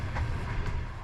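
An 8,000-horsepower locomotive hauls a freight-heavy sleeper train up a steep gradient in Uzbekistan, rumbling steadily along the rails with a low, heavy drone and faint rhythmic clatter, continuous and close.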